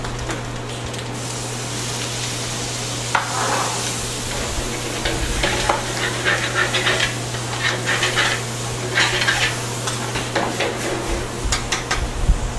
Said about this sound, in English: I'm going to go ahead and deglaze that pan with a little bit of our stock that we have going